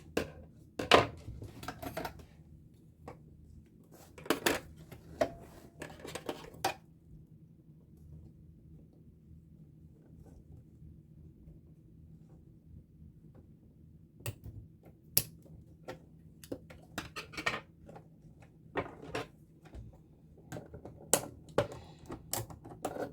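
Scissors snip and crunch through fabric in several short, sharp bursts at uneven intervals, close by, separated by quiet stretches with a low steady hum underneath.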